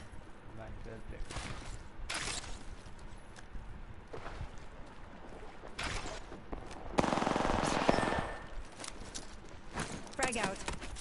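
Apex Legends gunfire crackles in repeated rapid bursts over busy game audio, with one long, loud volley in the middle and a few sharp shots near the end.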